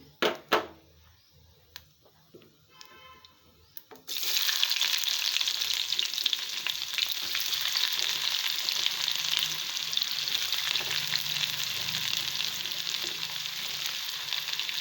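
Onions sizzle and fry in hot oil for a fish curry after cumin goes in, starting with a few sharp crackles and clatters before a loud, steady hiss takes over and holds to the end.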